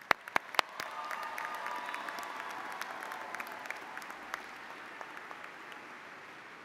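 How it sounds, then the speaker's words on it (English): A convocation audience in a large hall breaks into sustained, dense applause that stays steady and full throughout, with a few sharper claps standing out near the start. "Let's give them a round of applause."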